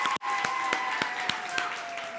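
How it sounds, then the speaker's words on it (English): Audience applause at a tech and innovation livestream event, a steady wash of clapping after a brief dropout, with faint periodic thumps and a sustained tone running underneath. "Give yourselves a round of applause."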